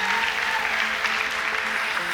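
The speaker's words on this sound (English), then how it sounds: "Big round of applause." A live audience at a married-couples game show claps for the winning red team, a brief, loud, continuous burst of applause filling the room.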